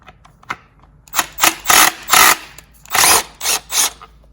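A power tool spins out 10mm bolts from the lower timing cover of a 3.4 L Toyota 4Runner engine, a string of short, loud whirring bursts, about eight in all, separated by brief pauses.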